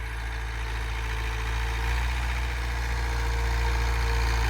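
A New Holland 850 tractor engine idles with a steady low rumble and a constant throbbing hum throughout. The engine is fairly near and runs alone, with no voices heard.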